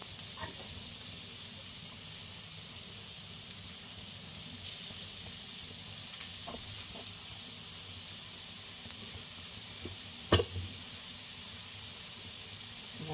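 A besan (gram flour) pudla with cumin cooks on a pan for a Gujarati breakfast, giving a soft, steady sizzling hiss that stays faint throughout, with one brief louder clink near the end.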